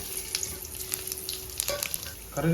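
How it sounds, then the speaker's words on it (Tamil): Cumin, cinnamon, cardamom and cloves sizzle in hot oil and ghee, a steady close crackle with small spits and pops throughout, and a brief stir or scrape near the end. "இப்போ கொஞ்சம் எண்ணெய் ஊற்றிக்கலாம் கொஞ்சமாக நெய்யும் சேர்த்துக்கலாம் போதும் இந்த அளவுக்கு சேர்த்துக்கலாம் ஜீரகம் பட்டை ஏலக்காய் லவங்கம்"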